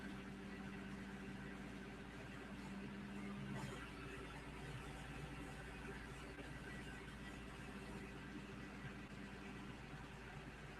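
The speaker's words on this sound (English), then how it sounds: "There's a big truck out the front." A big truck idles outside the front of a house, a steady low engine rumble running continuously at moderate distance, with faint talk nearby.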